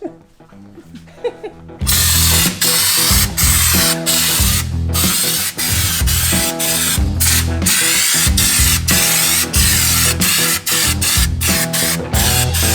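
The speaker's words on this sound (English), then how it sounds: "this Schutz gun is like a body deadening or sound deadening sort of gun, so it lays this stuff on really thick" An air-powered Schutz gun sprays thick underbody coating onto a 4WD chassis, a loud, harsh hissing blast in repeated bursts with brief gaps, following a quieter start.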